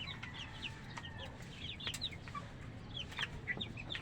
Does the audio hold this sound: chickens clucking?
yes